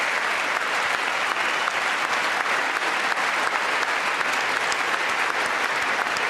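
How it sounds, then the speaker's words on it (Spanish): Audience at a State of the Union address stands and applauds steadily throughout, a dense, loud wash of clapping from a large crowd with no voices above it. "Qué bueno que todos se levanten a aplaudir,"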